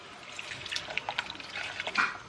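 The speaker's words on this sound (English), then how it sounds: "one of them I'm going to fill with water, and I'm going to add that straight into here" Water poured from a mug into a cooking pot for karak coffee, a short splashing trickle lasting about two seconds, close by with no talk.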